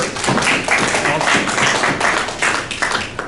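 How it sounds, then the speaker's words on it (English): Audience applause at a public talk, a steady wash of clapping hands sustained throughout, fairly close and full. "Well-deserved applause."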